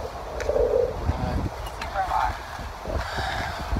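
Gusty wind buffets the microphone in low rumbling surges while a person talks over it outdoors at Wekiva Springs on a hot winter day.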